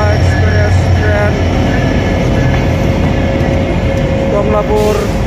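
Rupsha Bangla Express intercity train passing the Jurain level crossing in Dhaka, Bangladesh, a loud close continuous rumble of rolling carriages and rail clatter with a steady tone throughout.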